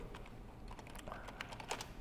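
Typing on a computer keyboard while a shopping list is written into a notepad, with soft, quick, irregular keystrokes clattering steadily at close range over a faint background hiss and no talking.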